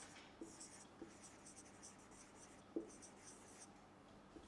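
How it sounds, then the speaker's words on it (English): Faint scratching of a pen or marker writing on a board or paper in an English class, a run of soft strokes with a small tap near the end, in quiet surroundings. "I will just write it down."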